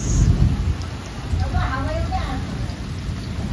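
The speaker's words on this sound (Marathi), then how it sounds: "हे बघा पाऊस." Heavy monsoon downpour in Mumbai with thunder, a steady close rush of rain on surfaces and low rumbles, with a brief voice exclaiming partway through.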